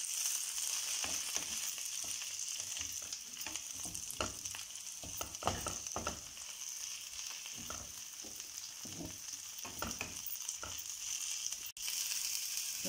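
Coriander and mint leaves fry in a pan for veg biryani, giving a steady close sizzle with soft stirring scrapes throughout and no voices.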